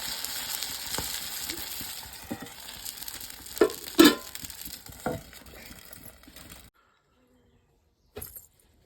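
Amboli rice pancakes fry on a wood-fired chulha, a close sizzle punctuated by scraping and clinks of utensils and a few sharper knocks, then the sound cuts out into near silence before a brief final rattle.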